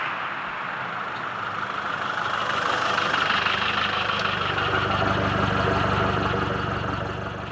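A Land Rover Defender engine fitted with a Demand aftermarket exhaust runs at a steady, loud, deep drone, rising slightly mid-clip as if under throttle, with no talk.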